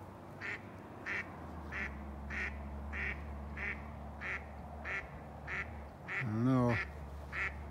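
A duck quacks in a steady series of short, evenly spaced calls over a low constant rumble. A person speaks briefly near the end.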